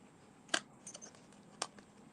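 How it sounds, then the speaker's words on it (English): Metal snips trim card paper in two sharp, close snips about a second apart, with faint rustling in between in a quiet room. "I'm going to take my snips, which are right here, and simply trim that away"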